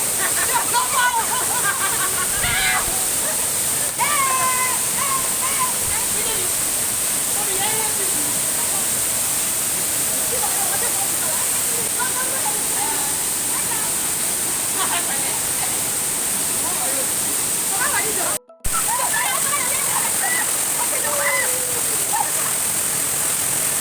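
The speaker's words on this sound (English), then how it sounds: "this is the first layer of the waterfall" Broadband rushing roar from the first tier of a multi-level waterfall in Nigeria, steady and close throughout, with a person occasionally talking over it.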